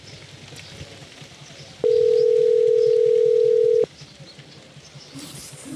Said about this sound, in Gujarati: આ હવલદાર ફોને નથી ઉપાડતા